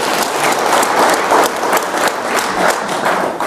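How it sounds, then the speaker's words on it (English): A crowd applauding steadily, dense clapping that stays loud and even throughout with no voices standing out. "that's a real big applause"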